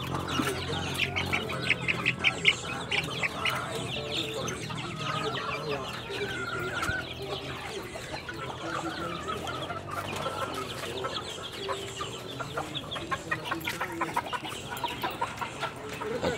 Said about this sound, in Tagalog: Nabatay mga manok po dire.